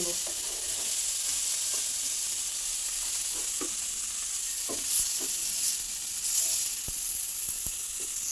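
Prawn and bottle gourd leaf paturi frying in hot oil, a soft steady sizzle with scattered crackles and pops, close and alone without talk.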